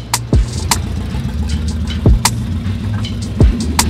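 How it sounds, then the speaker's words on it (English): A BMW E60 with a clipped, dislodged exhaust idles with a loud, throbbing rumble, broken by three sharp descending bursts spaced a second or two apart. "the exhaust got clipped, and it came out of place, so now it's making mad noise"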